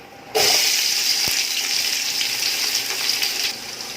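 Onions and whole spices hitting hot oil in a pan, starting with a sudden loud sizzle that holds as a steady, close frying hiss, with one sharp knock partway through, then eases slightly near the end.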